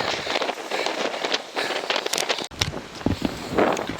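Wind gusts buffet a microphone outdoors in a rough, uneven rush with sharp blasts and brief lulls, close and fairly loud, with occasional rustling.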